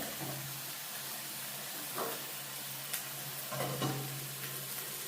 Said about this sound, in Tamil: கறி கொதிச்சிருக்குமே.